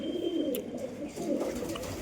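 Pigeons coo softly in low repeated murmurs, close by, over faint background hiss and a few light ticks.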